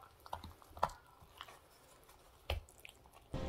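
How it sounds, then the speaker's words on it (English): Dog chewing on a chew, soft wet crunches and squishy bites at irregular intervals, close but quiet against a faint background. "it's just my dog eating her chew."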